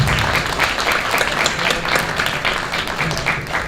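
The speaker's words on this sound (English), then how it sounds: "I would like to invite everyone to give a round of applause to our esteemed panelists today." Dense audience applause for panelists at a youth entrepreneurship forum, steady and fairly loud from start to finish with no talk over it.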